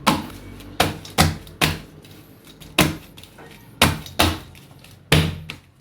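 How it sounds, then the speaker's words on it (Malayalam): Layered Kerala parotta dough slapped and beaten by hand while hot, about a dozen sharp, close thuds in an uneven rhythm with brief decays between strikes, no talk. "അപ്പോൾ നമ്മളിതാ പൊറോട്ട അടിച്ചെടുത്തിട്ടുണ്ട്"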